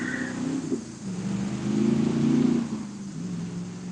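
A passing car's engine rises and falls, with a mid-low revving hum swelling as it draws near and easing away, heard alone at moderate distance.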